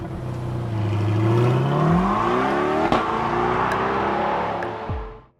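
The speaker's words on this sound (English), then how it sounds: "The sound the LT6 produced at full throttle was unlike any factory American V8 that had come before it." A Chevrolet LT6 V8 revs at full throttle, its pitch sweeping up and falling back in a sustained, layered howl with a sharp blip near the middle before cutting off at the end.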